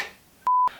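A small telephone in a tiny Japanese business hotel room gives a single clean keypad tone, a short, loud, steady beep after a quiet moment, with no one speaking.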